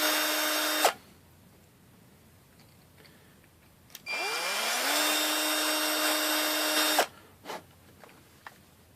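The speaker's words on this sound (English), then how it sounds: "I'm going to use an 1/8" drill bit." A power drill with a 1/8 inch bit whines at high speed for about a second, stops, then runs again for three seconds before winding down, followed by small clicks and handling noises.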